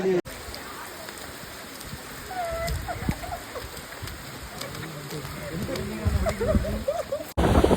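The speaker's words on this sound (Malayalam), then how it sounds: "ഭയങ്കര മഴ." Heavy rain pours steadily on surfaces outdoors, a dense constant hiss with drops, rising louder toward the end; faint voices and a bird-like call sit in the background.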